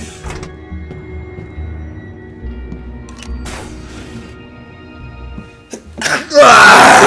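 A single loud sneeze bursts out near the end, after quieter game background sounds with a few clicks and thumps.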